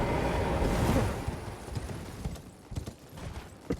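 Hooves of a horse mount in the game Elden Ring clip-clop steadily through a volcanic area, the rhythmic steps under a broad rushing wash that fades after the first second.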